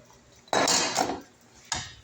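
Utensils scrape and clatter in a bowl as chicken shawarma is tossed, with a longer loud burst of mixing early on, then a pause and one more sharp clink near the end.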